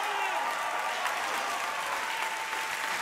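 At Ninja Warrior Germany the audience keeps up steady, dense applause throughout, a broad wash of clapping from a large crowd.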